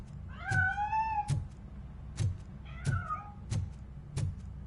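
Two meows from a cat in Robocop: Rogue City, each a rising-then-falling wail, separated by a run of sharp, regular knocking thumps that continue throughout; no talking.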